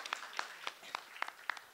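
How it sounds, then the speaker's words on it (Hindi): A studio audience at a singing contest claps to welcome judge Dipti Sharma, a steady, moderately quiet string of distinct handclaps spaced evenly through the moment. "दीप्ति शर्मा जी, जोरदार तालियों के साथ।"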